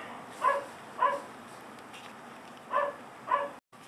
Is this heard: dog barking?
yes